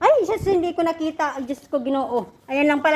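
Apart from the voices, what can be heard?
No everyday noise stands out behind the speech.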